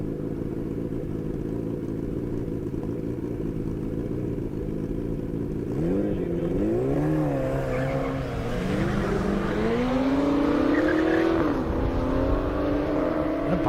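A Suzuki Hayabusa motorcycle drag races down an airstrip during a half-mile event, its engine note climbing from a steady drone into a loud, rising wail as it pulls away through the gears.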